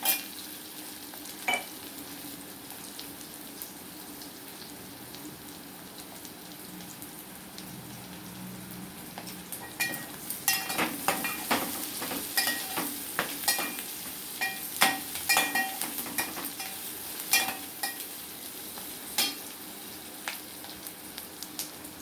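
Eggplant pieces fry in hot oil with a soft continuous sizzle, and the sharp crackling pops grow denser and louder partway through as the pieces are stirred.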